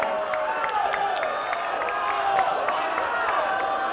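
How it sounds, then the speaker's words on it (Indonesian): Audience at a Palembang mayoral candidate debate applauds and cheers for the three candidate pairs, a steady, dense wash of clapping and crowd noise sustained throughout without a break. "Kita berikan tepuk tangan yang meriah untuk ketiga pasangan calon kita pada malam hari ini"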